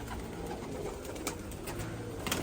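Iranian pigeons ready for auction coo against a dense, noisy background of steady rumble and hiss, with a few brief sharper sounds near the end.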